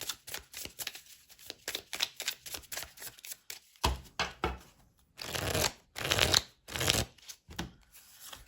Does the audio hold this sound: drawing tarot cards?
yes